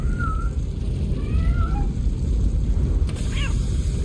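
A cat meows in the RoboCop video game, a few short high mewing calls rising over a loud, rumbling game backdrop, with a final cluster of quick cries near the end.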